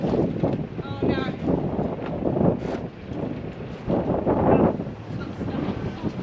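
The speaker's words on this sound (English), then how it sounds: "Wind's doing all the work." Wind gusts buffet a sailboat at a crowded anchorage, a steady rushing roar with microphone buffeting throughout, while people talk over it.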